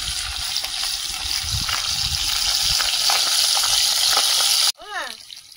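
Lata fish fries in a pan with a dense, loud, continuous sizzle of hot oil that cuts off abruptly near the end, where a brief voice is heard.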